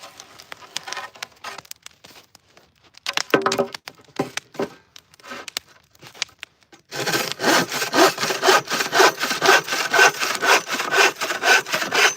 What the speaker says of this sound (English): I'm hand bucking wood, like cutting the 2x4s down that I'm tearing off the cabin